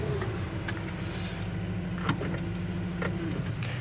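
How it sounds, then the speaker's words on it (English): Heater fan running inside a restored 1957 Chevy Bel Air, a steady whooshing blower hum with a low engine-like drone underneath and faint clicks, continuous and moderately loud. "Heater, fan works."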